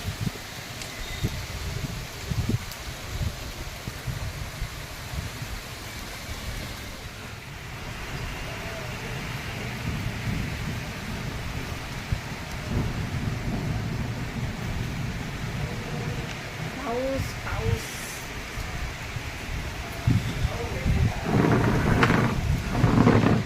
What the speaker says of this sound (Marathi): शिमगाच्या दिवशी पडला आहे पाऊस